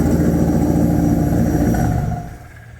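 A Nissan Z31 IMSA widebody race car engine runs at a loud, deep, steady rumble close by, then cuts off after about two seconds and fades quickly to near silence.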